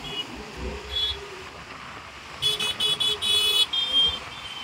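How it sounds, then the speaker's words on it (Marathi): Car horns in street traffic blare in a run of short, sharp honks in the second half, standing out over a low, steady traffic rumble. "उगाच लोक हॉर्न वाजवतात विनाकारण"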